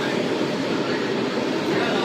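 A steady, loud rumbling drone fills the inside of a moving subway car, with an even roar of wheels and air and no pauses.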